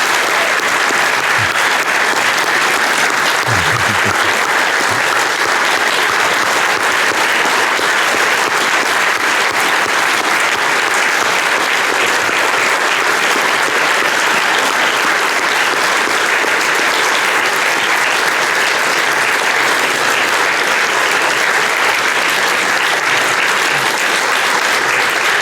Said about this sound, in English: Folks, let's give these three one more round of applause.